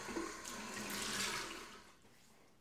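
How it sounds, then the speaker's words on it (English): Warm water runs and splashes at a bathroom sink as a face is soaked, a steady close rushing flow that fades near the end and finishes with a small knock. "I've just soaked my face here with some warm water"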